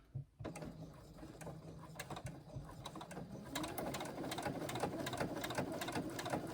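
Freshly rethreaded sewing machine top stitching down a folded edge of a sling, a quiet mechanical clatter that builds into a steady rapid ticking run, close and fairly soft.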